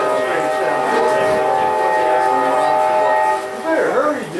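CSX locomotive 8731 pulls a freight train west past Flatonia, Texas, with a steady, tonal metallic whine and drone that holds throughout, fairly loud and close, easing slightly near the end.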